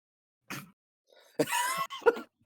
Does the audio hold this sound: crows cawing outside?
no